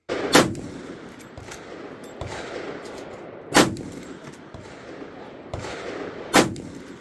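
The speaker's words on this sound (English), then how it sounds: "let's take these tactical lever actions to the range and see what they can do." Three loud, sharp .45-70 lever-action rifle shots from Marlin Dark and Henry X rifles crack at a range, spaced about three seconds apart, each followed by a rolling echo and soft handling noise.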